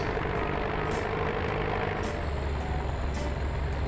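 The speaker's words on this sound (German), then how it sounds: "Traktor fährt." A tractor in Farming Simulator 17 drives along with a dense, steady engine roar filling the scene, with faint periodic clicks on top.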